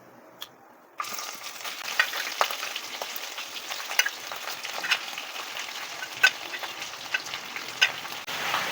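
Boiled mutton pieces hit hot oil in a pan tempered with shahi jeera for yakhni pulao, setting off a steady, close crackling sizzle with occasional sharper pops and stirring scrapes that lasts throughout.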